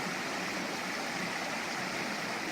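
Cedar Creek on the Manistee River Trail rushes steadily, a dense, continuous wash of flowing water with no other sounds.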